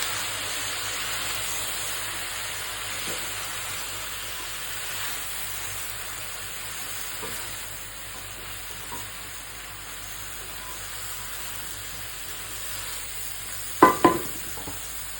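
Food stirred in a hot pan while cooking a sizzling dish seasoned with sauces, salt and pepper: a steady, quiet frying hiss runs throughout, with a couple of brief louder clinks of the spatula near the end.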